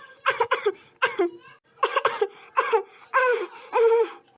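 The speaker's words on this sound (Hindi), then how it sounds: "तोरे खांसी वासी आई गई" An elderly woman gives a series of short, hoarse coughs close by, in clustered bursts separated by brief pauses, with no talk over them.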